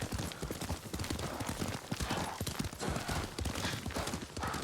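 Galloping horse hooves in Ghost of Tsushima, a steady clip-clop rhythm of hoofbeats up close, moderately loud, with a faint voice briefly under the riding.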